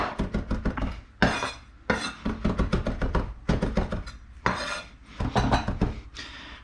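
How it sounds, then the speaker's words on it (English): Garlic is bashed and roughly chopped with a knife on a board for a cucumber salad, a rapid series of sharp close chops in several quick bursts separated by brief pauses. "Same thing, just bash that up. Bash that up, give it a rough chop."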